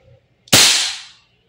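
An Umarex HK416D Gen 3 airsoft gas blowback rifle fires one sharp, loud, close crack that fades quickly in a quiet room.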